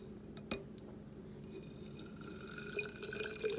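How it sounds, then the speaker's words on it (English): White vinegar is poured into an empty glass bottle, a faint trickle with small drips and clinks of glass. A quiet liquid gurgle builds toward the end, with no voices. "just pour white vinegar into the empty bottle"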